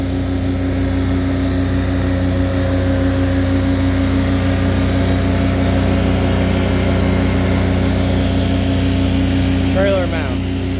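A trailer-mounted Vactron Vermeer LP573 hydro vacuum excavator with a 500-gallon tank runs at a steady, loud engine idle with a constant low hum and drone throughout, and someone talks over it.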